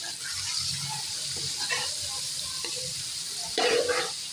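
Onions added to garlic in a hot pan fry with a soft, steady sizzle, quiet and close, with a few clinks and stirring scrapes as the pan is worked, for a bhindi tori salan.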